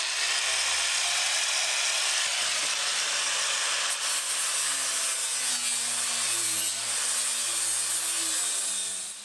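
A Hitachi grinder grinds down a boat hull, a loud steady broadband roar of abrasive on fiberglass that holds without pause, its motor pitch wavering slightly as pressure shifts.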